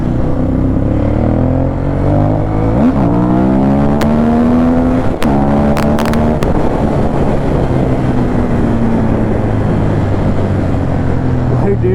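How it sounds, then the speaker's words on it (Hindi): A Ducati Monster 821 motorcycle engine roars at high RPM, loud and close, its pitch rising and falling through several revs over steady wind rush, with faint voices in the background. "हाई आरपीएम पे क्या आवाज आती है यार डुगाटी की"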